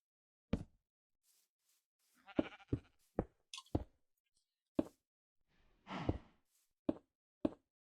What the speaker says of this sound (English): So, Mr. Sheep, you go there.